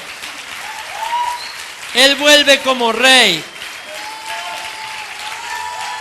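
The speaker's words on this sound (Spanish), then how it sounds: "Dele fuerte ese aplauso a Él." A church congregation claps in sustained applause that runs under a preacher's loud, ringing voice, which rises briefly over the clapping.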